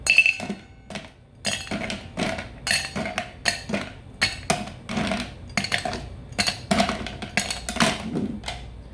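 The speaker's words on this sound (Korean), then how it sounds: "그 다음 쉐이커에 얼음을 8개에서 10개 넣어줍니다" Eight to ten ice cubes dropped one after another into a metal cocktail shaker, giving a quick, irregular series of close, bright clinks and knocks with no talking.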